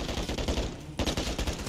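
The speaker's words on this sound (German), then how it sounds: "Das Geschütz nagelt uns fest, Captain!" Sustained turret gunfire from the Call of Duty Modern Warfare 3 campaign, a loud, dense automatic burst that breaks off briefly near the middle and then resumes with rapid rhythmic shots.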